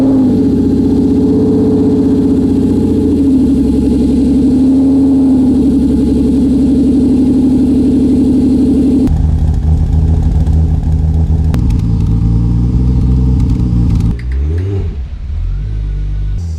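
Toyota Supra turbo engine starts and runs, a loud steady mid-pitched drone that shifts to a rougher, unsteady running note partway through before dipping near the end, with no speech.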